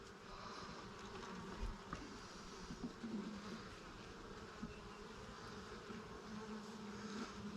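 Honey bees buzz steadily inside an opened beehive, a continuous near droning hum with faint clicks and rustles and no talking.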